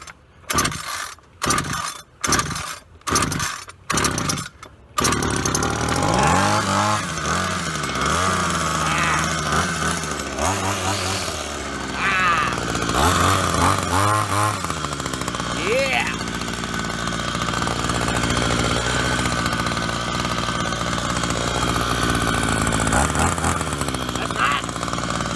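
A Homelite 26cc two-stroke curved-shaft string trimmer takes several rapid recoil starter pulls, then catches and runs loud and close at full throttle with a steady buzzing whine that wavers slightly, while a voice talks over it at times.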